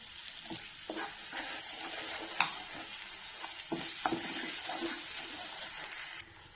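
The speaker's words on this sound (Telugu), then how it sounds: "ఆ టమోటా పేస్ట్ని వేస్తున్నాను" Tomato paste made from two blended tomatoes hits fried masala in a pan for chicken curry, giving a steady crackling sizzle with occasional stirring scrapes and taps throughout.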